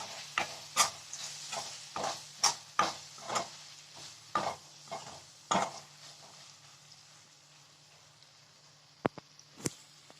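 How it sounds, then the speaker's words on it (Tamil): A utensil scrapes and stirs through soya keema with turmeric and garam masala in a pan, with a dozen or so irregular clacks and soft sizzling between them. "இதை நல்லா மிக்ஸ் பண்ணிக்கோங்க."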